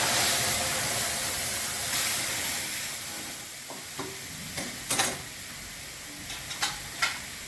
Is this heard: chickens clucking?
no